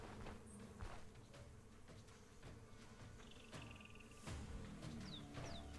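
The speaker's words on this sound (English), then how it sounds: "Infested by wasps, yep." Wasps drone and buzz faintly in the Stoneshard video game near a bandit camp. The hum is steady and low, with a few soft footsteps and small ambient chirps.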